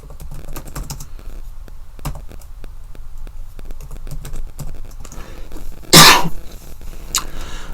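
Steady clicking of keys on a computer keyboard, close and fairly quiet, with a few louder taps and one brief loud rustle or thump near the end; no talking.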